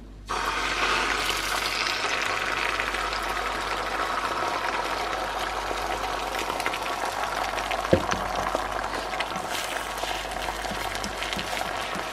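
A steady, dense sizzle of eggs frying in a pan fills the clip, loud and continuous, with one brief knock partway through.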